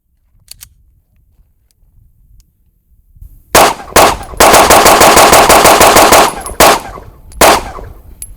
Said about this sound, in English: So let's put some rounds through it.